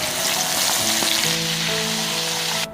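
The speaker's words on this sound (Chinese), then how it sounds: "大虾撒上淀粉煎一下" Steady, loud sizzling of starch-coated prawns frying in a hot pan, with a low hum running underneath and a brief stir partway through.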